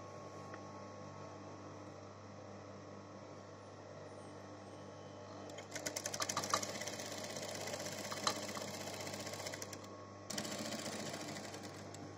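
Sewing machine top-stitching along the edge of a men's half-open shirt placket, a steady moderate whirring run that starts partway through, pauses briefly, then resumes over a constant low mains hum.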